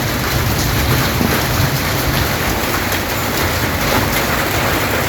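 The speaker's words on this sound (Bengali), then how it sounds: "তো আবার বৃষ্টি নামা শুরু হয়ে গেল।" Heavy rain pouring during a Kalbaishakhi storm in a Bangladeshi village, a loud, dense, unbroken roar of drops on surfaces.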